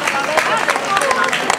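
Applause for a band at a trout festival in Bedonia, a dense wash of clapping from an audience with crowd noise beneath.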